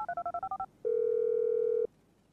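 A run of eight quick touch-tone key presses on a phone in GTA 5, dialing to set off a bomb during a bank robbery, followed by a steady held tone of about a second, heard alone and clearly.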